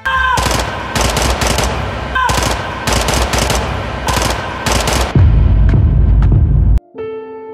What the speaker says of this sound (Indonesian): Rentetan senjata yang dilepaskan Borny membuat Pak Rai tewas seketika